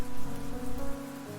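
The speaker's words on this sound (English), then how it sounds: "The sound of falling rain was all that could be heard." Steady rainfall patters across surfaces in the video game Fallstreak, a dense, even wash of drops with soft music running beneath it.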